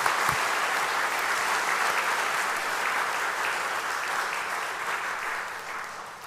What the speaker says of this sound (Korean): 인사하실 때 여러분 큰 박수로